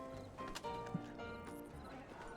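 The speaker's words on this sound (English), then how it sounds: "Somebody get rid of that damn horse." Horse hooves clip-clop in a RedM western game town, with a short whinny-like burst partway through, heard under a steady background bed with faint voices nearby.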